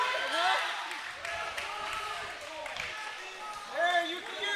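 Basketball game crowd at RC Lions vs Eastern Musketeers reacting to a foul call, a steady murmur of voices rising into louder disapproving shouts near the end, with people talking throughout.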